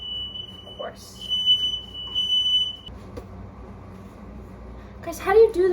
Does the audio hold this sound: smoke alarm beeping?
yes